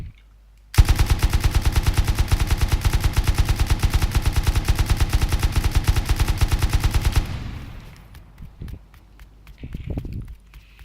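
Rapid sustained automatic fire from an M249 machine gun in the game Rust, a dense unbroken burst of evenly spaced shots lasting about six seconds, then fading into quieter scattered sounds.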